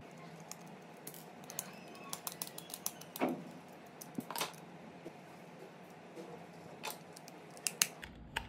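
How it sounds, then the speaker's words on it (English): Screws being turned out and a bracket removed from a portable neck fan: quiet, irregular small clicks, ticks and scrapes of a tool and plastic parts up close, with a few sharper snaps. "We'll turn the screws out and remove the bracket."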